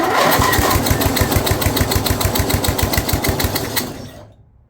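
An older Snapper rear-engine riding mower's Briggs 12 HP engine, abandoned for years, cranks and then runs with a rapid, steady chugging rhythm, loud and close, before cutting off abruptly near the end.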